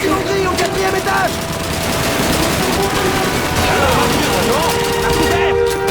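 Rapid bursts of MG42 machine-gun fire in the Call of Duty 2 video game, a dense fusillade of crackling shots mixed with explosions and overlapping shouted voices through the whole stretch.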